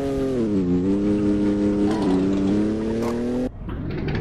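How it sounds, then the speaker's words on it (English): A ricer-style car engine in a racing video game revs steadily with a buzzing, slightly wavering drone that climbs a little, then cuts off abruptly into a rougher, quieter rumble near the end. "that car sounds like a ricer"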